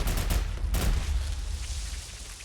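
Gunfire from a weapon in the video game Fallout: London: a quick cluster of loud, sharp shots in the first second, then a decaying rumble that fades out.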